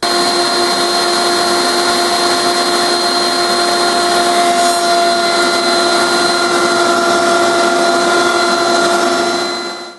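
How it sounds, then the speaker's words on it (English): Router table cutting a round over profile with a 3/4 inch bit, a loud continuous high-pitched whine with steady tonal hum and cutting hiss, spinning down at the end. "I'm going to be using a 3/4 inch round over bit set up in the router table."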